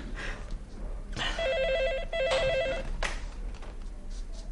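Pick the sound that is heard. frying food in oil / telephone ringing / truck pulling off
telephone ringing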